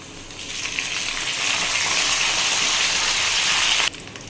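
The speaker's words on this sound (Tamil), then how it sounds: "கருவேப்பிலையும் கருவேப்பிலையும் காஞ்ச மிளகாயும் உள்ளே ஆட் பண்ணிக்கலாம்." Curry leaves and dried red chilies hit hot oil already holding lightly fried chana dal and urad dal, setting off a loud, close sizzle that swells and holds before cutting off abruptly near the end.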